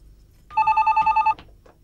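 An old-style telephone bell rings in one steady burst of rapid, evenly pulsed trills lasting under a second, close and clear in a quiet room, followed by a brief clatter.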